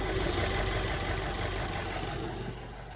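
A vintage all-original vehicle's engine idles smoothly and quietly, a steady low running hum close by with no voices over it.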